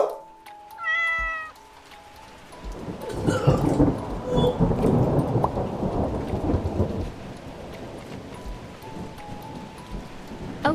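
A cat meows briefly, then a steady downpour of rain sets in with rolling thunder rumbling loudly beneath it before easing off.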